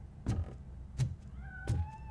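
Three short cat meows in the RoboCop: Rogue City video game, evenly spaced about a second apart over a low ambient hum, with faint tonal game sounds behind.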